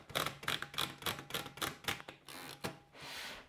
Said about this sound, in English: when you're typing on a typewriter, it's a mechanical process